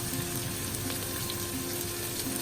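Julienne-cut onions sizzle steadily in hot oil over a medium-high flame for a vegetable biryani, a dense, continuous frying hiss with no talking.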